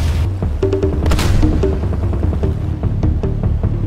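A 102mm howitzer cannon fires from a bomber in a combat flight game, several heavy booming shots in quick succession over a low droning engine rumble, loud and close.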